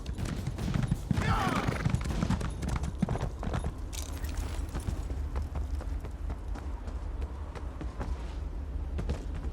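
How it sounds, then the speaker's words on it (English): A horse's hooves clip-clop in the Elder Scrolls Online video game, a quick rhythmic run of thuds over a steady background with a brief busy burst near the start, fairly faint. "My poor horse."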